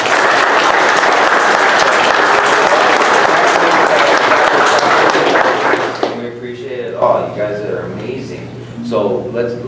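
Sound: round of applause for co-stars

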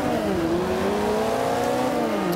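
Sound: KTM X-Bow turbo engine accelerating in video game Forza 5

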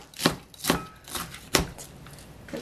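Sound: knife chopping cabbage for japchae

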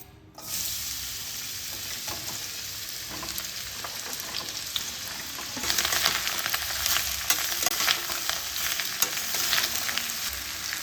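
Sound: frying snake gourd in hot oil in a wok

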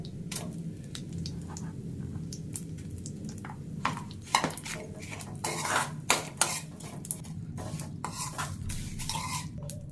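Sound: spoon stirring jaggery mixture in a cooking pot

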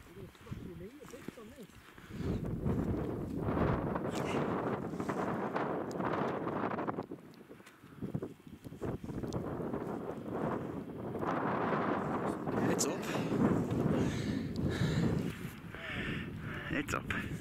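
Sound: wind blowing on a mountain summit

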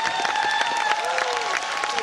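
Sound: audience applause and cheering at a concert

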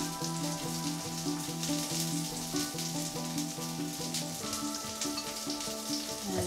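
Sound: sausages added to a pan, sizzling

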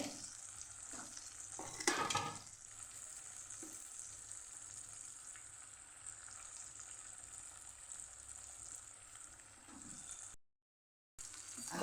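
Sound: boiled vegetables stirred into sautéed masala in a pan

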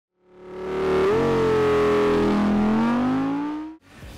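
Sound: Ram TRX 6.2 liter V8 truck accelerating hard

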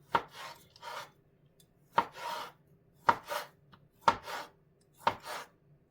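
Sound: knife dicing sausage and meat

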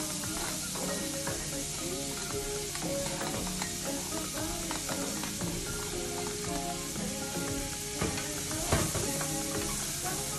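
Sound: garlic, onions and peppers sizzling in a pan

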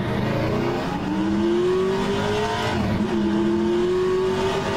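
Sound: race car engine in rFactor 2 video game

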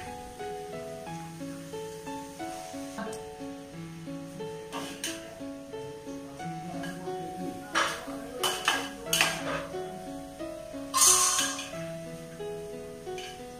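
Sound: papaya pieces added to pan and stirred for pickle

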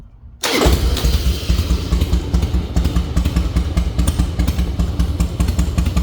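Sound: Harley-Davidson Fat Boy motorcycle engine starting and idling

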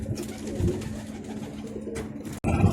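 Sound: pigeon cooing

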